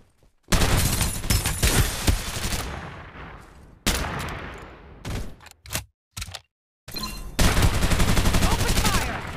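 Loud gunfire from the Farlight 84 battle royale game, with dense bursts of automatic fire in long stretches broken by short gaps and a few isolated shots, game voice callouts faintly mixed in.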